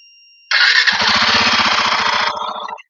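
A Royal Enfield Tripper motorcycle engine cranks and catches with a loud, sudden roar, then settles into a rapid, even idle thump for about two seconds before cutting out.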